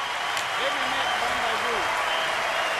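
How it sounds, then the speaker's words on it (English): A large, enthusiastic crowd applauds steadily after the men's singles gold-medal match in Olympic table tennis in Athens, with a dense wash of clapping and a commentator speaking over it. "Highly supportive and enthusiastic crowd."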